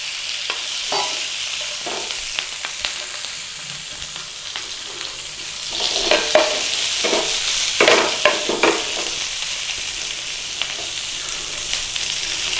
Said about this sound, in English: A little bit of oil, pan, flame on, peppers in